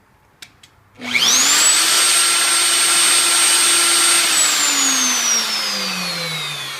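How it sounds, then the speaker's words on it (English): Triton wood router switched on with a sudden loud whine, holding a steady high-pitched drone, then switched off so the motor's pitch slowly falls as it spins down. "when I turn it off, sometimes the button doesn't actually click in the off position, even though obviously the circuit opens and the router turns off"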